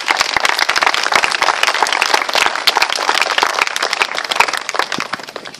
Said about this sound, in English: I'd like for you all to give yourselves and that lady a round of applause